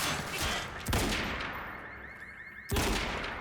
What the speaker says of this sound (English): Bro, that's a sniper rifle shot